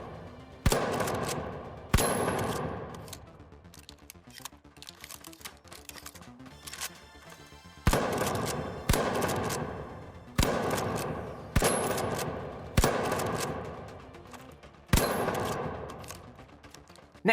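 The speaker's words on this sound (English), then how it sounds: "finally, you have the Repeater, a slower shooting semi-automatic rifle" Repeater semi-automatic rifle in The Finals fires in a slow, steady cadence of sharp, loud reports, each with a short decaying tail, about a dozen shots spread across the clip with a brief pause midway.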